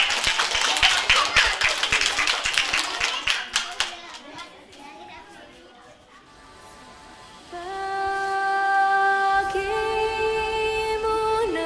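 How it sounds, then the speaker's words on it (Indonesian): Children's hands clap in a loud, uneven burst for a kindergarten dance performance at a school talent show, fading after a few seconds, then giving way to sustained tonal music. "Berikan tepuk tangannya."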